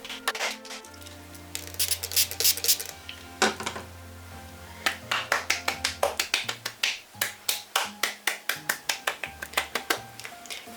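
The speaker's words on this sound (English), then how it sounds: "So that's why I was doing the clapping." Hands clapping together on an inky dauber to spread ink splodges for a Christmas easel card, a rapid series of sharp close claps that comes in uneven bursts and then a steady rhythmic run over soft background music.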